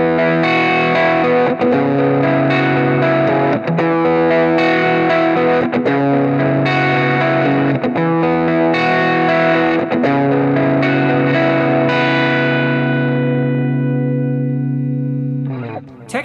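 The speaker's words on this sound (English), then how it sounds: "I may want to use a subtle delay just as like a slight washy trail," Electric guitar through a Line 6 HX Stomp with a subtle digital delay mixed low, leaving a washy, reverb-like trail behind sustained chords and picked notes, played steadily and ringing out at the end.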